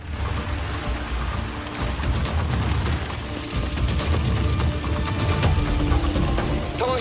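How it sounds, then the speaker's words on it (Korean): Hail pelting down in a Korean drama, a dense, steady clatter of hard impacts with low rumbling booms underneath, loud and continuous throughout with no voices. "원칙대로 일을 진행하지만 곧 우박이 내리기 시작하는데요."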